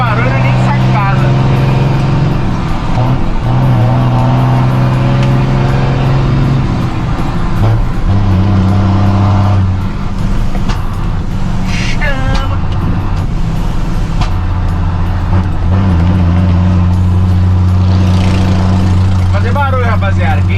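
Mercedes-Benz 1620 electronic truck diesel engine roaring loudly and continuously, with revs rising and falling, close up, while people talk over it.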